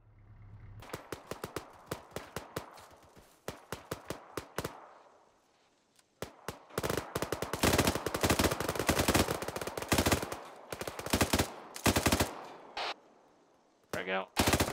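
Gunfire during a milsim field training exercise, sparse single shots at first, then long rapid automatic bursts, loud and near, with shouted voices in between.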